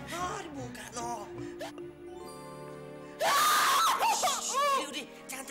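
A woman screams loudly at close range, a harsh sustained shriek that breaks out suddenly after quieter speech, with someone talking before it and more voices and sung tones around it.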